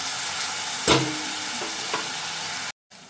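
Onion and tomato with salt frying in a pan, a continuous close sizzle with a few scraping stir strokes, cut off by a brief silent gap near the end.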